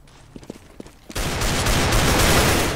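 Sustained, dense gunfire erupts loudly in a CS:GO match after a few sparse clicks and footsteps, a continuous burst of overlapping shots that fills the rest of the moment.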